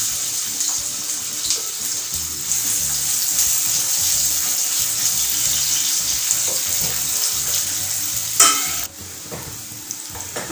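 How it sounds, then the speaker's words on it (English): Chopped onion sautéing in about three tablespoons of hot cooking oil for a chicken lasagne sauce gives a loud, continuous close sizzle with soft stirring underneath and a brief clatter near the end. "when the oil is hot, we will first saute the onion"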